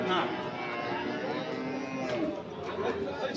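A cow lows at a busy livestock market, its drawn-out call rising over a steady murmur of crowd chatter and nearby voices, with other animals and people filling the background throughout.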